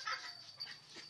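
A small pet dog whimpers softly in a few brief, high, thin whines, faint and close in a quiet room.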